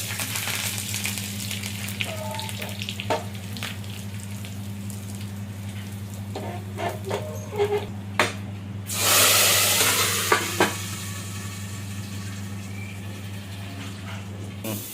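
Dried red chillies and curry leaves sizzle in hot oil as a tempering for Andhra pappu gongura, a soft steady crackle with a brief louder hiss burst midway, over a low hum, no talking.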